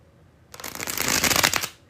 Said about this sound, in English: I'm about to do the bridge shuffle.